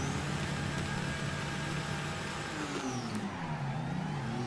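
A BMW drift car in the mobile game Torque Drift revs and roars continuously, its engine pitch sweeping up and down as gears shift during a tandem run.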